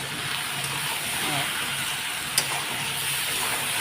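Onions frying in a pan for potato curry, a steady close sizzle and hiss with faint stirring and one small clink, no voices.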